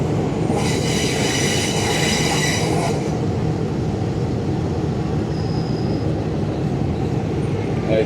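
A third class train rolls through jungle countryside toward northern Thailand, with a steady loud rumble of wheels on rails throughout and a bright squealing hiss from the wheels during the first few seconds.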